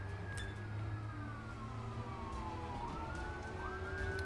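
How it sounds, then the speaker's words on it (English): Emergency vehicle sirens wail in the distance, their pitch slowly sliding and falling over a steady low rumble of background noise, with no voices. "oh, there goes the sirens"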